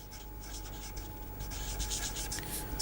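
Chalk or marker scratches and rubs continuously across a lecture board, a dry, busy scraping that rises and falls in short strokes without any talking.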